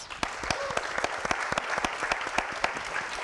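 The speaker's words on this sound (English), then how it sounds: "Give them a round of applause." Audience applause after a flute quartet event, with dense clapping and a few sharp, distinct claps standing out, sustained evenly throughout.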